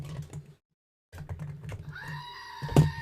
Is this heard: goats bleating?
yes